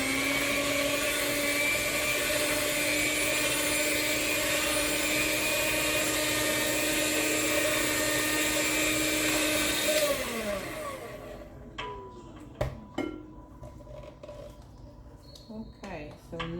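An electric hand mixer whips buttermilk chess pie batter with cornmeal in a bowl, a loud, steady motor whine that runs for about ten seconds, then stops, followed by light clinks and knocks of utensils.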